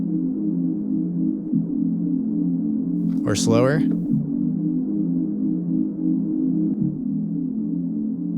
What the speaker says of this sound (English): What I really like to do is add in a nice little pitch envelope.